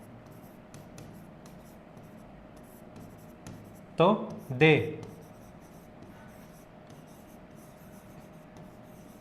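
A teacher writes on a board during an English grammar lesson, giving two short bursts of marker or chalk scratching in the middle, while talk is heard in the background.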